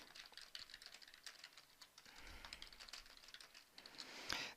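Soft, steady typing on a computer keyboard, rapid irregular key clicks close to the microphone over a quiet background with no talk.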